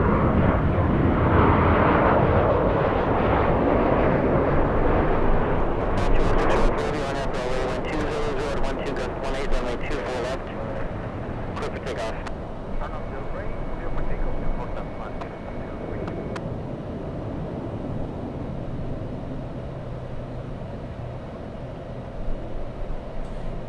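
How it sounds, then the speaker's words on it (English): A LATAM airliner makes a slow, reduced-thrust takeoff at LAX, its loud, steady engine roar rumbling for many seconds and gradually fading, while people talk over it. "It's going to be a nice and slow D-rated takeoff."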